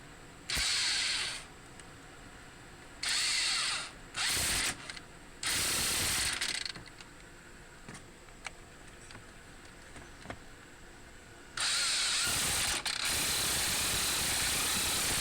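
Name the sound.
ratchet tightening car brake caliper bolts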